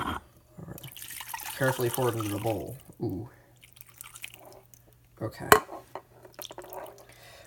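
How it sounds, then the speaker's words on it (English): Ramen broth is poured from a pot into a small bowl, making soft splashing and dripping liquid sounds, close and fairly quiet, broken by a person's brief remarks and murmurs. "we're gonna take the rest of the ramen, carefully pour it into the bowl"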